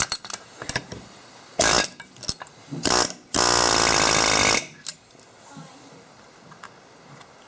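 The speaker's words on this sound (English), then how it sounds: "I'm going to use an air hammer with this bit on the end, and make short work of putting them through" Air hammer pounding wheel studs through a bearing hub on a 2000 Chevy truck: a few short bursts of loud hammering, then one sustained rattling burst of about a second, with quiet workshop noise between.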